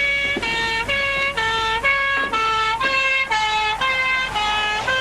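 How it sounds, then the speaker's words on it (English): Police car siren wailing in a steady repeating two-tone pattern, loud and close, sounding alone with no talk over it. "It's a police car."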